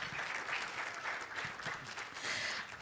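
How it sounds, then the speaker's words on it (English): An audience at a women's leadership forum gives a steady round of clapping, a soft, even patter of many hands with gentle swells, heard alone without voices. "Clap, clap, clap."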